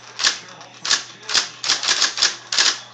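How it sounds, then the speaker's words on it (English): An IBM Selectric I electric typewriter clacks through about nine sharp, close keystrokes at an uneven pace over the steady hum of its motor. "cool old typewriter."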